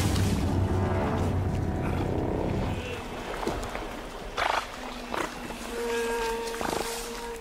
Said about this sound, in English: They make snorting sounds as a warning to the caiman.